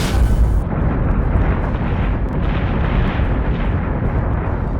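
Guns of a battlestar in the video game Battlestar Galactica Deadlock fire in a loud, continuous rumbling barrage of dense booms and bursts, with no talk heard.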